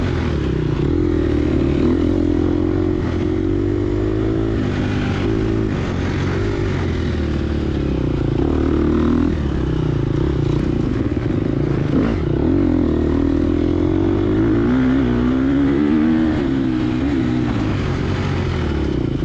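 A Gas Gas EX250F dirt bike in a harescramble race is ridden hard on the throttle. The engine drones loud and continuous for a long stretch, with pitch swinging up and down as it revs and eases off.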